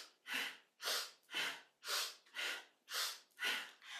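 Rhythmic yoga pranayama breathing during a kundalini kriya, eight strong, evenly spaced breaths through the nose, each a forceful rushing inhale or exhale, close and loud with no talking.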